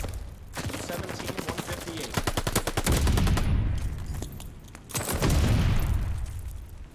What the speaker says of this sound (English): Big gunfight for Wu.